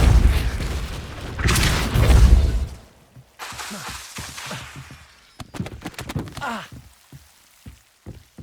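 A Depulso spell cast in the Hogwarts Legacy video game: a loud, deep rumbling burst for about three seconds, followed by softer scattered thuds, clicks and ticks, with no talking.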